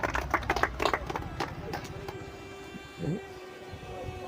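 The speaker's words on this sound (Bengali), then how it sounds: "সবাই দাদার জন্য একটু তালি মারো একটু তালি মারো" A burst of quick, crowded clapping at a quiz competition in the first couple of seconds, then fading out, with a low rumble and voices underneath.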